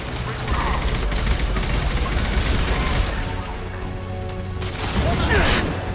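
Sustained gunfire and loud combat mechanisms from the video game Mass Effect 2, a dense continuous barrage of shots and impacts filling the scene, close and loud throughout.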